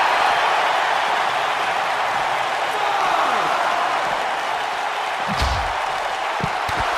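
Capacity crowd at a live wrestling show, a steady wall of cheering and roaring that holds loud and unbroken throughout, with a few sharp thuds breaking through near the end.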